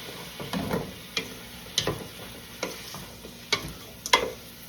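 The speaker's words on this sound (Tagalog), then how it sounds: "Masarap naman yung igisa na natin tong hipon." Shrimp sautéing in a pan for shrimp pancit bihon, with a steady low sizzle and a few sharp clinks and scrapes of a utensil stirring the large prawns at irregular intervals.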